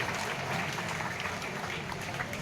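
Audience applauding in welcome of a municipal council chairperson at a forest festival event at a Navodaya school in Lavan, India; dense, steady clapping throughout at moderate distance, no voices over it.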